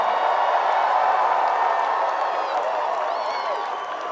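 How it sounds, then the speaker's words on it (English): A crowd applauds and cheers for the Firefighters team at a world tour championship finale in Savannah, a dense sustained wash of clapping that fades slightly at the end while a voice speaks over it. "let's give a big round of applause for the Firefighters in their season."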